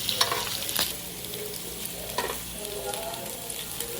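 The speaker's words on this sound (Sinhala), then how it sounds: "දැන් තමයි හොඳට බැදෙන්නේ" Small pieces of Korean food fry in a pan with a soft, steady sizzle and occasional stirring scrapes and clinks, fairly quiet and close, with no talking.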